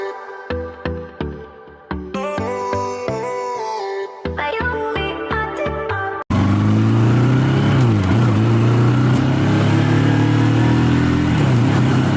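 Motorcycle ridden through a cold mountain valley near Thangu Valley, Lachen; after about six seconds of music, a loud, steady engine drone with wind rush takes over and continues to the end.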